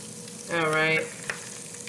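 Tofu and egg frying in a pan for breakfast, a steady close sizzle broken by a brief tonal scrape or squeak of a utensil, then a single light tap, with no talking.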